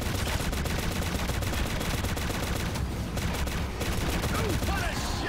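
Rapid automatic gunfire from Shadowgun Legends, a dense continuous rattle of shots with a brief lull midway, loud and close, with game effects mixed in.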